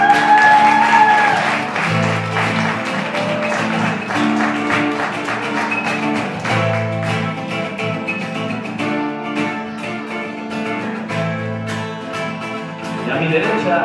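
An audience claps at a live concert in Madrid while a guitar keeps playing beneath, the scattered applause partly masked by the ongoing melodic strumming and bass notes and rising a little again near the end.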